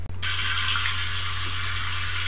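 Water gushing hard from a tap after its handle breaks, a steady loud broadband rush that starts abruptly and continues unbroken, with no talking.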